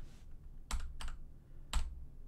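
A few sharp clicks from a computer keyboard near a desk microphone, sounding as two quick strokes and then one more after a short gap, close and distinct against faint room noise.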